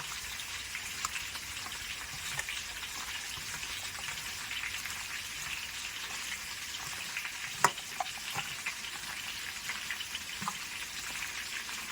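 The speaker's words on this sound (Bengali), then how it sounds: "ওইদিকে তো আলু ভাজা চাপিয়ে দিয়েছি" Potatoes frying in a pan on a stove produce a continuous, even, rain-like sizzle, steady and fairly close, with an occasional faint tap or clink and no voices.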